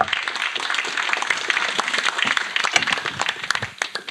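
An audience claps after a lecture on territorial alliances, a lively patter of many hands with distinct individual claps standing out, swelling slightly then thinning toward the end.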